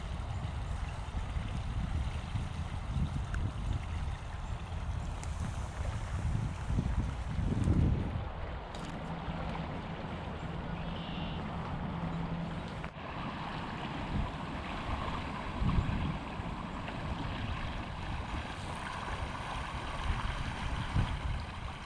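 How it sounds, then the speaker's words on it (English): Rapids on the Grand River in flood, a continuous rushing roar of fast water mixed with wind buffeting the microphone, with occasional louder surges. "Just love the sound of this rapids."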